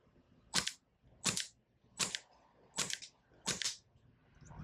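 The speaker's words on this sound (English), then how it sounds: "first I'll be showing you the SSP18 firing on green gas" An airsoft SSP18 pistol on green gas fires five separate semi-automatic shots, each a sharp, close crack with a brief hiss. The shots come at a steady pace, roughly one every 0.7 seconds, with no talking.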